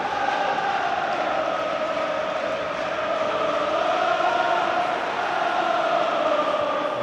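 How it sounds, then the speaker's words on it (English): A steady, loud roar of a packed stadium crowd at a Hibs versus Hearts football match, with sustained chanting and singing rising and falling slightly throughout. "there's a great Hearts crowd inside the stadium as well"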